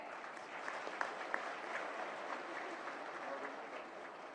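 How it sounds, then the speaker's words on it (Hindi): An audience at an event during President Droupadi Murmu's visit to Jaisalmer claps steadily, a sustained wash of applause with a few sharper individual claps standing out, heard from moderately far. "उनके लिए एक बड़ा ताली तो हो जाए।"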